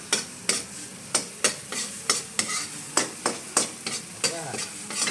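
Food stirred in a frying pan, a spatula scraping and clacking in a steady rhythm of sharp strokes about every half second over a soft sizzle, close and clear with no talk.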